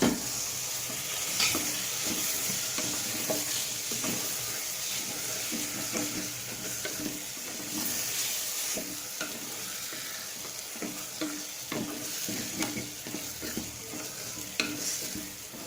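Mutton pieces fry in a pan with a crackling sizzle while a utensil stirs and scrapes in a steady, uneven rhythm, close and moderately loud throughout.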